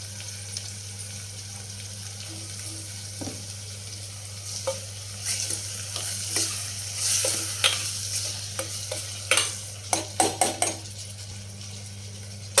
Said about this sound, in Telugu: ఒక పావు కేజీ టమాటాలు చిన్న ముక్కలుగా కట్ చేసుకుని దాంట్లో యాడ్ చేసుకోవాలండి రుచి సరిపడా సాల్ట్ వేసి ఒకసారి తిప్పుకొని